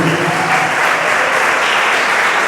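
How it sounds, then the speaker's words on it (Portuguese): A church congregation claps in praise to the name of Jesus during a Sunday sermon, a loud, dense and even roar of applause filling the whole space without a break. "levante a mão para o céu, aplauda o nome de Jesus"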